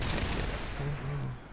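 A siege tank in StarCraft fires across a battle, heavy booming artillery shots that blend into a dense, noisy game soundscape at moderate level.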